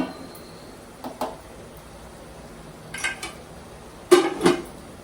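A metal lid clatters onto a pan of semiya upma in a kitchen, with a few short clinks spaced apart and then a sharper double clank, close and fairly loud against near silence.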